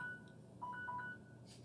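A few short electronic keypad tones beep faintly in a cluster as someone fumbles with a phone during a talk, with low room hum underneath.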